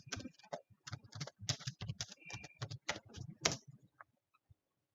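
Rapid keystrokes on a computer keyboard as a password is entered, a dense run of close clicks that stops abruptly, followed by a few sparse taps.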